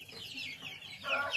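Chicks living on their own at a dacha peep and cluck in a brief, close burst of chirping with a shrill rise at the end.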